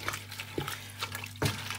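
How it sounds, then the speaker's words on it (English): Water poured into a cooking pot while making a zobo drink with pineapple peel and cloves, a short splashing pour with brief bursts over a steady hum in a home kitchen. "I'm going to add water to cook"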